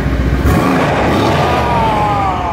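A 710 bhp Bentley engine restarting and idling with a loud, steady mid-range rumble and some clatter, close by, after valves in the exhaust have been closed.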